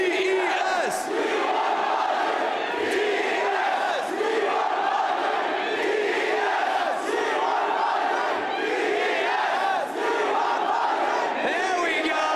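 A large esports crowd at a League of Legends final chants and roars together in an arena, a loud, sustained wall of massed voices with a rhythmic chanting pulse.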